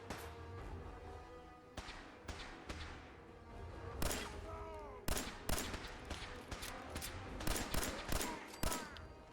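Gunfire in the video game Fallout 4, a rapid series of loud sharp shots in bursts with ringing tails, close and continuous across the stretch with no talk over it.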